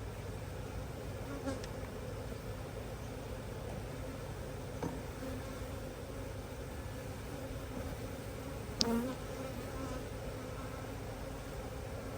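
A steady, dense drone of many honeybees buzzing together inside a hive during a spring inspection, close and continuous throughout, with a few brief soft knocks and no voices.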